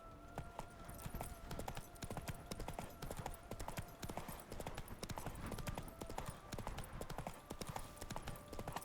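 Roach, a horse in a video game, gallops with rapid, steady hoofbeats that stay loud and continuous throughout, over a faint tonal background.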